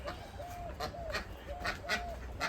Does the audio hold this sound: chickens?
yes